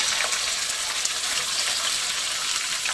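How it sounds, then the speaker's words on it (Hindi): Bone-in beef mince hitting lightly browned onions in a hot pan, a loud, dense, continuous sizzle and hiss filling the whole stretch without a break. "प्याज जैसे ही हमारी हल्की ब्राउन हो जाएगी तो मैं इसमें कीमा ऐड कर दूंगी"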